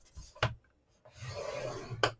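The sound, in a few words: scoring cardboard for a sweet treat box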